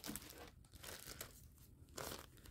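Small plastic zip-lock freezer bags crinkle and rustle as they are handled up close, in short irregular bursts at low level.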